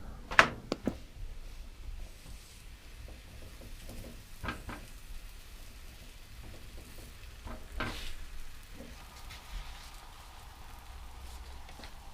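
A paratha fries in a really hot pan with a quiet, continuous sizzle, marked by a few sharp knocks and clatters near the start and occasional soft bumps later.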